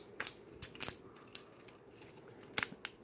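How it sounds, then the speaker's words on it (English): Ratchet joints on a Mastermind Creations Reformatted Feral Rex R-07 Felisaber transforming robot toy, giving sparse, crisp little clicks close up, a few quick pairs separated by short pauses in a quiet room. "These are nice, lovely ratchets."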